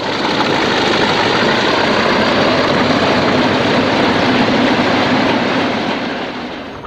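British Rail Class 40 diesel 40123 passes Widrington at the head of a chemical train, giving a loud, sustained engine drone and steady rumble of wagons that holds throughout before tapering slightly at the close.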